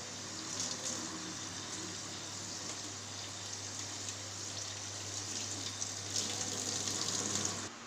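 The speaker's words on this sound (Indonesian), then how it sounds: "Lalu bilas menggunakan air bersih dan air mengalir." Steady running tap water splashes over linen being rinsed, a continuous close hiss with a constant low hum underneath and a few brighter splashing bursts, no talking.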